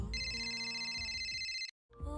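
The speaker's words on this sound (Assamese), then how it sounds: "ভাবি থাকোঁতেই অভিমন্যুৱে কল বেক কৰিলে।" An electronic phone ringtone plays a bright, repeating melody, cuts out briefly to silence, then starts again.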